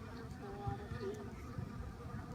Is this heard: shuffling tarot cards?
no